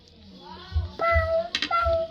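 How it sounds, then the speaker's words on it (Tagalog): A pet cat meows several times at close range, with rising and falling cries and a few dull low thumps between them. "Yan ang pusa ko."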